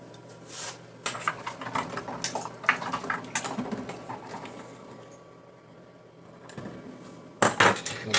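Glass jars and pots clatter and clink as they are handled in a home kitchen while sterilizing jars for bone broth, with bursts of knocking and scraping separated by quieter pauses, close and moderately loud.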